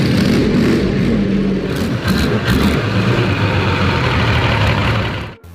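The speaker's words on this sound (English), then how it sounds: "Listen to how this monster purrs, even when just standing still" A homemade convertible powered by a Transmash V12 tank engine sits running while stationary, its deep, loud, continuous rumble steady throughout before cutting off abruptly at the very end.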